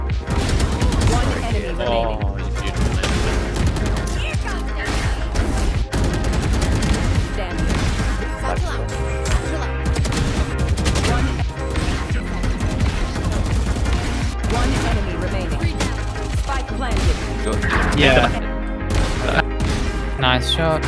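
Gunfire in the video game Valorant, with dense, continuous bursts of rapid shots and impacts throughout, loud and close, with players talking over it.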